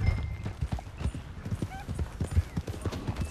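Horse hooves clip-clop steadily in Red Dead Redemption 2, a brisk repeating rhythm of close hoof strikes on the ground with no talk over them.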